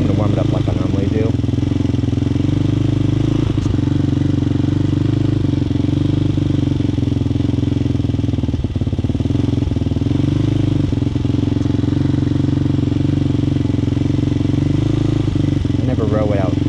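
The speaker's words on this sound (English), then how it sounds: "I'm going to warm it up like I normally do" A Hawk 250cc motorcycle engine warming up, idling steadily and loudly up close, a continuous low rumble with faint clatter and no rise in revs.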